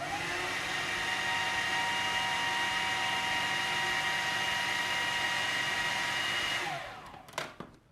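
An electric mixer whirs steadily on zucchini bread batter, a constant buzzing drone that runs for several seconds and then winds down, ending with a few light knocks and clatters.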